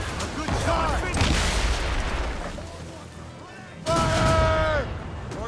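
Naval cannon broadsides thunder in Assassin's Creed Rogue, with several booming volleys rolling over one another amid crackling blasts and sea battle din, while voices shout orders over the barrage.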